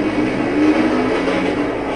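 A train in the off-road racing video game MX vs ATV rumbles loud and close, a steady, dense roar with no gaps.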